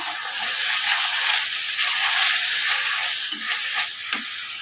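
Spices being stirred in a hot frying pan, a steady sizzle with scraping strokes of the spoon and a few sharper clinks near the end, close and alone without talk.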